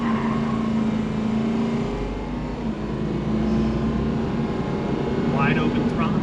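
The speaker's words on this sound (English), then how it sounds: "Wide open throttle. There's fifth gear lockup. And I'm gonna let it shift right now." 6.0L diesel pickup truck with a 5R110 transmission at wide open throttle, a loud, steady engine drone with a shift heard as a change in pitch partway through, and someone talking over it.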